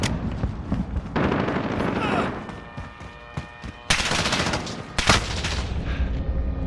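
Rapid gunfire bursts and a few louder blasts in the video game Modern Warfare 2019, with dense cracks and booms layered over game noise.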